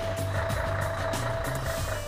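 A 15-metre semi-trailer truck manoeuvres through a narrow 3-metre gap at a house-building site. Its reversing alarm beeps in a steady repeating rhythm over a low diesel rumble.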